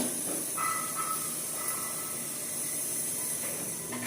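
A pressure cooker on a stove, cooking vennai puttu, lets off steam in a steady, continuous hiss at close range, loud and unbroken, with no one talking.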